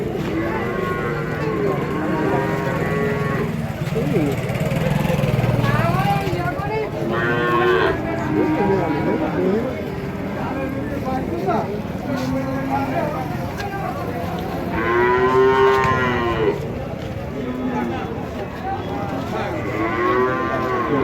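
Friesian cattle at a farm let out several drawn-out moos, some near and loud, spaced across the scene, while people talk throughout.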